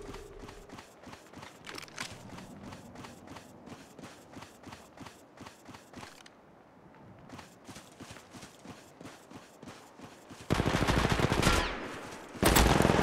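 Rapid automatic gunfire from Apex Legends Mobile, a steady rhythmic burst of shots for about ten seconds, a short pause, then a louder sustained roar of dense fire near the end.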